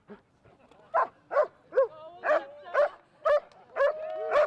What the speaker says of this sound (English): You heard the dog obey the officer with every command.